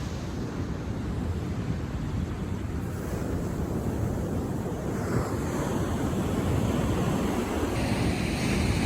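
Ocean waves breaking on Mhloti Beach near Durban on a Saturday morning with the tide coming in: a constant roaring wash of surf with wind buffeting the microphone, steady and close, no voices.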